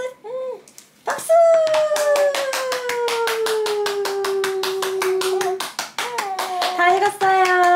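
Hands clap in a quick, even rhythm for several seconds while playing with a six-month-old baby at home, with a long sung or hummed voice carrying over the claps.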